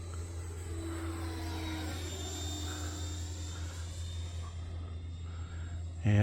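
An E-flite 90mm Viper RC jet rolls out of a turn on a flying pass, its ducted-fan whine holding steady and fairly loud, with tonal sweeps as it moves, then a sudden louder burst at the very end.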